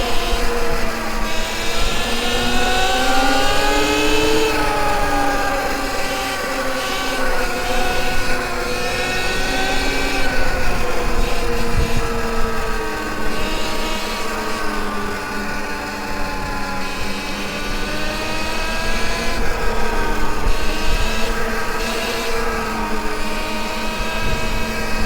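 A 72V Sur Ron electric dirt bike rides along a loose gravel road, its motor whine rising and falling in steady harmonic sweeps over constant wind and gravel rumble, loud and close throughout with no talking.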